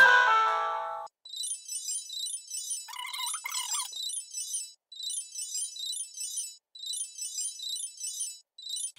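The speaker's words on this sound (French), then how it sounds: "quelqu'un a sonné, mais personne n'a répondu" Video intercom doorbell, newly installed, rings with a bright electronic chime that repeats in short, evenly spaced bursts for several seconds, each pattern followed by a brief pause, clear and close in a quiet room.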